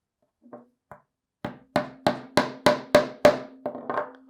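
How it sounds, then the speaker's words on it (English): A hammer strikes a nail into wood: two light taps, then about ten firm, steady blows in quick rhythm, close and loud. "I'm going to tack in the nail diagonal from the first nail"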